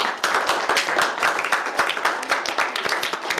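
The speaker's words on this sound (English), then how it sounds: "quick round of applause" Room applause at a student government senate meeting, a brief steady round of clapping from people present, moderately loud throughout with no talk.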